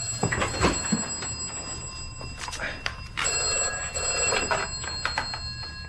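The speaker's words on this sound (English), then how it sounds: "Oh, it's the vestry phone." A church vestry telephone rings with an old-style bell in two bursts, a trilling ring near the start and a longer one after a short pause, fairly close in a quiet room.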